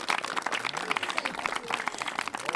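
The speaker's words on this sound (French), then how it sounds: "Vous pouvez les applaudir très, très, très, très fort." An audience in a French television broadcast applauds, a short burst of dense crowd clapping at moderate level, continuous across the whole moment.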